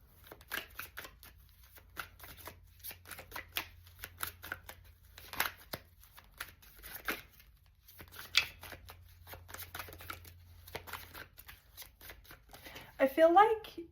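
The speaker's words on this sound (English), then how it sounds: "let's pull your oracle cards." Oracle cards being shuffled for a tarot reading, a steady run of soft papery riffles and flicks throughout, close and moderately loud, with a brief sharper burst of handling near the end.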